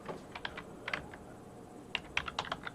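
Keys clack on a computer keyboard in two short bursts of quick, close keystrokes separated by a brief pause, with no speech.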